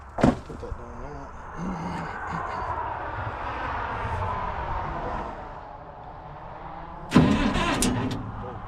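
A Cockshutt 1850 tractor engine cranks and catches, mechanical churning running under intermittent talk, with a sharp burst near the end as it fires up.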